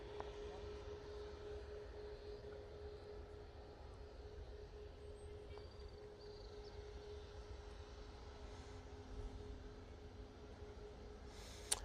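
An Airbus A380 taxiing slowly at Manchester Airport gives a steady, moderate jet engine drone with a constant whine, continuous and unbroken throughout, heard at a distance without any talk over it.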